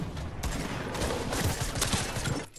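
Dense, continuous barrage of rocket fire in Fortnite Battle Royale, a loud, roaring wash of overlapping blasts that holds steady for a couple of seconds, then cuts off abruptly.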